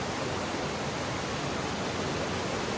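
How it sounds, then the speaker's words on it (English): A raging mountain creek in the Great Smoky Mountains along Forney Creek, running high and waist-deep, roars as a steady, dense wash of rushing water, close and unbroken, with no voices. "Man, this creek is just raging right now."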